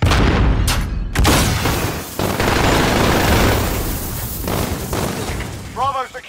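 A grenade explosion amid gunfire in Call of Duty Modern Warfare, XRK-M4 gameplay: loud, dense booms and rattling shots fill the whole stretch, with a voice briefly breaking through near the end.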